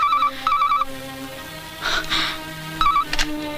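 Telephone ringtone warbling in repeated short bursts with gaps between, heard in a dramatic indoor scene alongside brief rustling noises and faint background tones.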